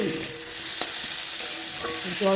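Mixed vegetables frying in a pan for a lentil-dumpling curry, a steady close sizzle with a few soft utensil clicks and scrapes, no talking.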